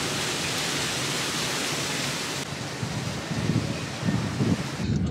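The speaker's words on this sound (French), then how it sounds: "il y a beaucoup de vent" Strong wind blowing outdoors in Thailand, a loud, continuous broadband roar buffeting close to the microphone, with gusty rumbling surges in the second half and no speech.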